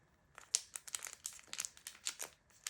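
Label stickers are pulled out of a small plastic packet, giving a quiet, close run of crinkling and rustling crackles with sharper plastic snaps, and no one speaking.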